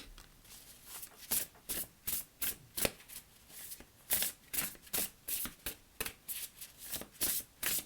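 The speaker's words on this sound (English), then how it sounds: "let's pull you an oracle card." A deck of oracle cards is shuffled by hand in a steady run of quick riffling bursts, each crisp and close, repeating about twice a second in a quiet room with no talking.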